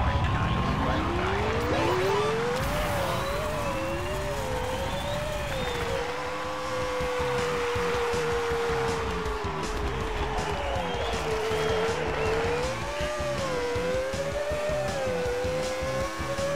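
Race cars in the New Star GP racing game scream past with rising and falling engine whines and gear shifts, a loud continuous layered roar of several cars, with occasional brief talk.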